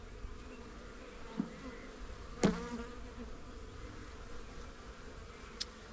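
Honey bees buzz steadily around hive frames during spring checkerboarding, a close, continuous hum broken by a few light knocks of the frames.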